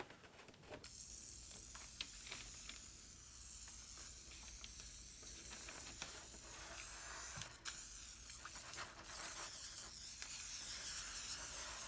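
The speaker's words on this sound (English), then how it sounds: "we'll use some spray adhesive and we'll glue these two pieces together" Spray adhesive hissing from an aerosol can onto beer-box cardboard, several close bursts of spray with short pauses between them, fairly quiet and without talk.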